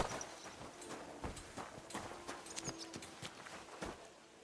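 Horse hooves clop in the Kingdom Come: Deliverance video game: a series of distinct, fairly quiet hoofbeats in an uneven walking rhythm over faint background ambience, with no talking.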